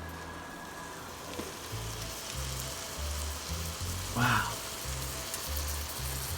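Raw meat for sloppy joes sizzles steadily in a hot frying pan, a continuous crackling hiss, with a short exclamation from a voice partway through.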